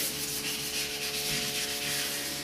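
Wet sanding of primer on a Fiat Spider car body by hand, a steady close rhythmic rubbing and scrubbing hiss, continuous and moderately quiet with no voices.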